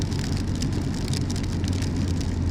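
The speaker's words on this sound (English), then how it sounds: "Now it's a raging torrent with all this rain." Heavy rain pours steadily in Scotland, a dense, even hiss across the whole stretch over a low, constant rumble.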